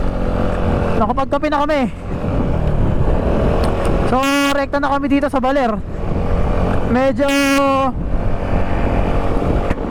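A motorcycle engine revs in rising and falling bursts as the bike climbs an uphill road toward Baler, loud and close, with someone talking over it throughout.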